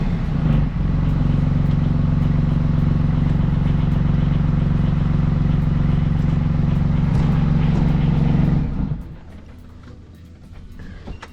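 A rebuilt engine runs at its first start-up with a loud, steady, close drone and strong low rumble for about eight seconds. It then cuts out abruptly, leaving faint room noise and small ticks.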